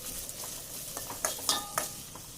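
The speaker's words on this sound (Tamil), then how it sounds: "இந்த சின்ன வெங்காயத்தை இந்த மாதிரி வதக்கிக்கோங்க." Small onions sautéing in ordinary cooking oil for an onion chutney, a steady soft sizzle broken by several scraping stirs of a spatula against the pan, close and moderately quiet with no voices.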